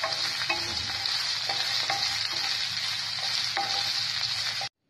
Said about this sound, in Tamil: கீரையை போட்டு நல்லா வதக்கி எடுத்துக்கலாம். சேர்ந்து புளியும் போட்டு வதக்கி